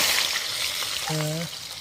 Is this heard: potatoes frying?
yes